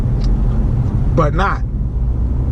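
A 2018 Ford EcoSport AWD drives along back roads, its low, steady road and engine rumble filling the cabin beneath someone talking.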